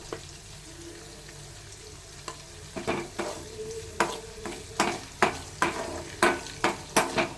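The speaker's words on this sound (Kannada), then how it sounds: "ಸ್ವಲ್ಪ ಇದು ರೋಸ್ಟ್ ಆಗುವಂಥ ಬಿಡಿ ಹಾಗೆ" Fenugreek leaf palya roasting in a pan while being stirred, a steady sizzle broken by repeated scraping strokes that come faster and louder toward the end, with no voices.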